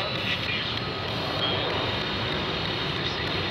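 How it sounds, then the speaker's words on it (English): An airplane passing overhead near a house, a steady broadband engine roar that stays loud and even across the few seconds, with faint background sounds beneath it. "a plane comes and ruins it"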